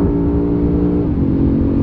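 A BMW M5 CS engine at full throttle at very high speed, a loud continuous roar with rising harmonics and a brief shift midway, heard up close from inside the car with no talking.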